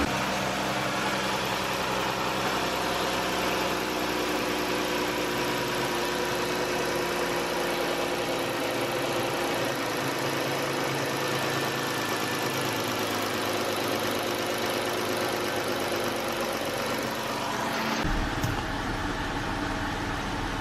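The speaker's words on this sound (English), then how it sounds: "So it used to idle around 500, so now it's up to like 750, and it's not shaking anymore." A Dodge Charger 3.6L V6 idles smoothly after a fuel injector replacement, a steady low drone with faint mechanical ticking that runs unchanged, closing with a brief low-end shift near the end.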